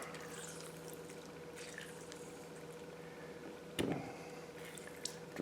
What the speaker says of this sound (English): I'm going to squeeze some lemon in there.